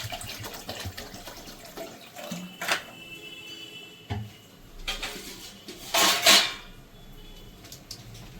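Water splashes into a kadai on a kitchen stove, ready for cooking chal kumro saag (ash gourd greens). A few short, close pouring bursts come with light clinks of a metal pan, without any talking.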